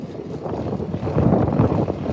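Wind buffets the microphone during an off-road ride on a RZR 200 in the mountains, a loud rumbling gusty roar that builds toward the middle, with no talk.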